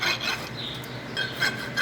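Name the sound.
farrier's rasp filing a horse's hoof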